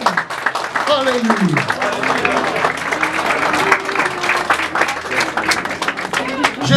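Church congregation at a French-speaking deliverance prayer service clapping and cheering in praise: sustained applause from a large crowd, loud and steady, while a preacher's voice speaks over it.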